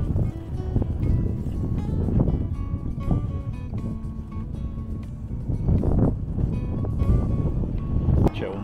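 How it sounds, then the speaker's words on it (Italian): Strong wind rushes outdoors beside a road where a vehicle is parked, buffeting the microphone in loud, uneven gusts that stay continuous throughout. "C'è un vento, tutt'oggi che c'è un vento allucinante."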